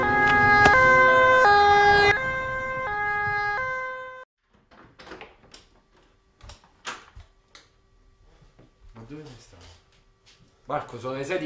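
A loud ambulance siren wails in rising and falling tones for about four seconds, then cuts off, followed by quieter scattered sounds and someone speaking at the end.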